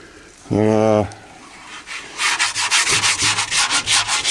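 Kreem liner being scraped off a motorcycle fuel tank after a lye soak, heard as a rapid run of rough rasping strokes in quick rhythm, close up, after a brief vocal sound at the start.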